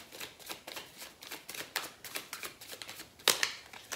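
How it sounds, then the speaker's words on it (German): A tarot card deck is shuffled nearby in a quiet room, giving soft repeated riffling flutters with a sharper snap near the end. "Dann mischen wir mal unser Kartendeck"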